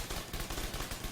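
An assault turret in The Division 2 fires a rapid, dense burst of automatic shots, loud and continuous for about a second with no talking over it.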